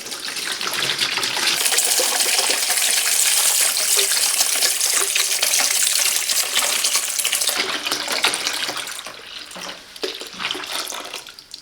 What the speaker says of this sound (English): Let's fill up with water and see how it works.